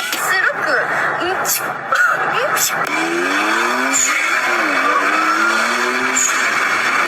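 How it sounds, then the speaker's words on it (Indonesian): A Honda S660 with its small engine revs in rising and falling sweeps, loud and close, with a whine and squeal-like tone layered over a steady mechanical drone. "Ini adalah Honda S660. Suara mesin mungilnya tuh kayak gini coy."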